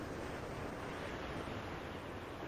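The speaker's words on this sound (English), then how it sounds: "now the wind's died and the ocean's calm" Steady, soft wash of ocean surf, a broad continuous hiss with no distinct breaking waves.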